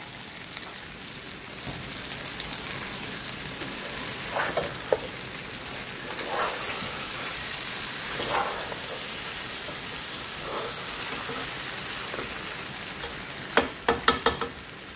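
Meat sizzling and frying in a pan for an Indian moringa curry, a steady close crackle with scattered louder pops and spits, no talking.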